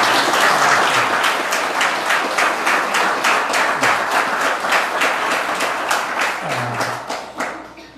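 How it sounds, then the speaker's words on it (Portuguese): Church congregation giving a round of applause, steady dense clapping with some rhythmic beats throughout, loud and close, tapering off near the end. "Vamos dar mais uma salva de palmas para Jesus"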